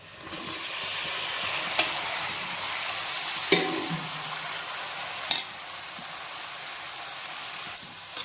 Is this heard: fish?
yes